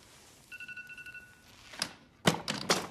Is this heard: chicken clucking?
no